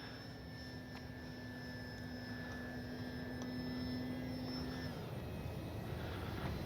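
A Dynam DHC Beaver V2 RC plane flies on its maiden flight, its steady motor whine holding a level tone and then cutting out as it glides in to land with its flaps down. The drone stays moderate and continuous.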